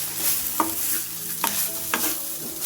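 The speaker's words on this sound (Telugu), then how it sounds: "అలాగే ఒక 1/2 టీ స్పూన్ వరకు మిరియాల పొడి వేసుకొని ఇప్పుడంతా బాగా మిక్స్ చేసుకోవాలి." Boiled rice with pepper powder is stirred in a frying pan, a spoon scraping and tapping a few times over a low steady sizzle.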